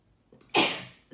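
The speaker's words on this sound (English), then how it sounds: "excuse me, I just sneezed" A single sharp sneeze bursts out close to the microphone after a brief intake of breath, in an otherwise quiet room during a makeup tutorial.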